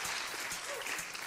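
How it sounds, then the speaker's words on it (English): Audience gives a short, thin round of polite sympathy applause, steady scattered clapping lasting just over a second with no talk. "That's kind of like a sympathy applause right there"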